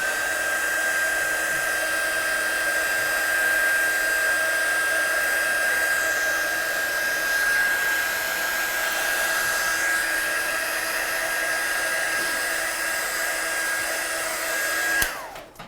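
A heat tool drying watercolour paint on card runs with a steady, loud whir for about fifteen seconds, then cuts off abruptly at the end.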